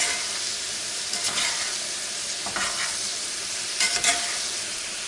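Vegetables and sausage sizzle steadily in a hot pan, with intermittent scraping and stirring strokes rising above the continuous frying hiss; close and fairly loud, no voices.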